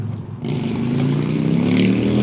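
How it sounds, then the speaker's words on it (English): A Harley motorcycle engine rumbles low and steady, its revving swelling louder after a brief pause, close and continuous. "That motorcycle sounds good."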